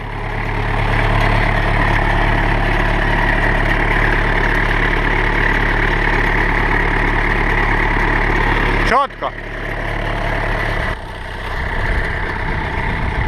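An old 1989 Polish lawn mower's small engine runs steadily at a loud idle, a sharp clunk interrupting near the end before the motor carries on.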